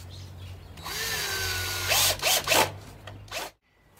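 A cordless power drill driving screws into a greenhouse shelf, close by: a rising whir, then several short bursts as the screw seats, ending abruptly.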